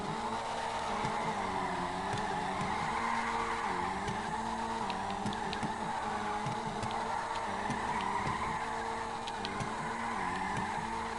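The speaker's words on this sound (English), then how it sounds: "let's get a little drift session here" Car drifting with steady squealing, skidding tires and a wavering engine tone, continuous and fairly faint for the whole stretch with no talking.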